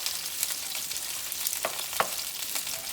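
Sausage, sliced peppers and onions sauté in a hot pan with a steady broad sizzle, a few sharp clicks and scrapes of a utensil shifting the food, no one speaking.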